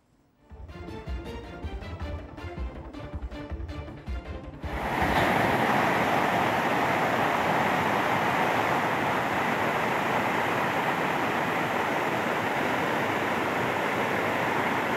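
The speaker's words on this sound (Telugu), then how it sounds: "ఏజెన్సీ ప్రాంతాల్లో వాగులు, వంకలు పొంగి పొర్లుతున్నాయి" Rushing floodwater from overflowing streams and rivulets in an agency area during heavy rain, a loud, continuous roaring wash that surges in after a few seconds of lighter, choppy sound and holds steady to the end, with no talk.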